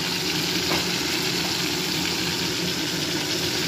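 Fish frying in a pan with kalo jeera and green chilli, a steady close sizzle and crackle of hot oil filling the whole stretch without a break.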